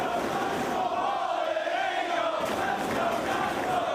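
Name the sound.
wrestling crowd cheering for Christopher Daniels in Dayton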